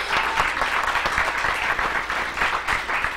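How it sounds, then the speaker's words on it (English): A burst of applause from a small crowd, steady clapping for a few seconds with no talking. "we can give him a little clap too"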